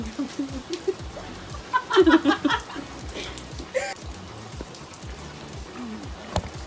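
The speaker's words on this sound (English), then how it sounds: "we're gonna have to make sure we talk loud because it is raining" Steady rain patters on a surface, with a few brief voices and clucking-like calls breaking through the wash around the middle.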